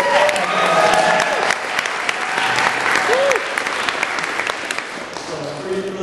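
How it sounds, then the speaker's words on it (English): Wedding guests clap in a dense, sustained round of applause that holds strongly for several seconds before tapering, with a few voices and cheers mixed in. "get a quick round of applause here"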